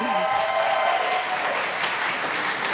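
A church congregation at a Christmas service claps together in a sustained burst of applause that fills the room throughout.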